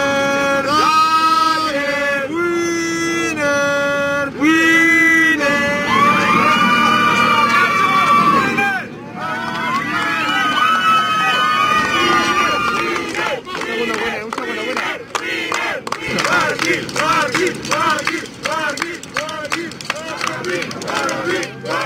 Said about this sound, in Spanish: comenzamos con la ovación a Nairo Quintana de la gente de Colombia